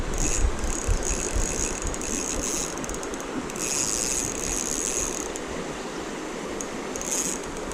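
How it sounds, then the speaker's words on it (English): A fishing reel's drag clicks in rapid buzzing bursts as a hooked fish strips line, over a steady rush of flowing water nearby. "he is stripping drag on my reel right now"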